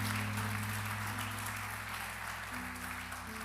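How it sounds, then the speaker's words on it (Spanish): A church congregation applauding during a sermon, broad steady clapping washing over sustained low organ or keyboard tones that shift chords partway through. "¿Cuánto le da un aplauso a Jesucristo?"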